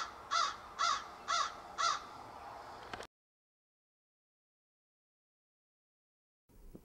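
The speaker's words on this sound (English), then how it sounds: "I really like this crow." A crow in the video game Mercy Me caws four times in an even rhythm, clear and fairly close, then the sound cuts to silence before faint noise returns.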